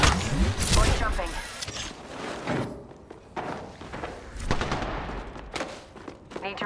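Gunfire crackles through a shooter video game in dense, uneven bursts of shots and impacts, with loud thumps and footstep-like clatter between volleys and a voice talking over parts of the action.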